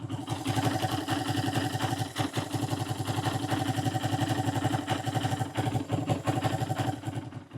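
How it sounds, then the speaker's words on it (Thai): A Kawasaki W175 SE motorcycle engine idles quietly and steadily, its fast, even rhythmic thumping holding close and constant with no voices over it. "เสียงเครื่องนะครับ เงียบมากนะครับ"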